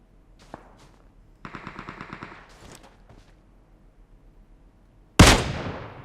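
Gunfire in the PUBG Mobile video game played on a phone: a rapid burst of automatic shots, then after a lull a single loud, sharp blast that trails off.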